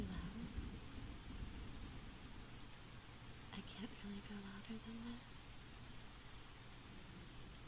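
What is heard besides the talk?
rain and thunderstorm weather sound effect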